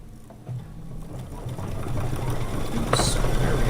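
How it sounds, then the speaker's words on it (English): Sewing machine stitching a tack down stitch at the center of a quilt block, a steady rapid mechanical whirring and clatter up close that speeds up slightly as it runs. "tack down stitch for the center of this block"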